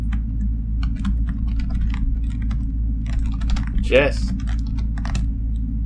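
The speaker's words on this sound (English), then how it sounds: "Just try typing in something that he said." Fast computer-keyboard typing while playing Pony Island: quick, irregular clicks of keys close up over a steady low hum, with a brief spoken word partway through.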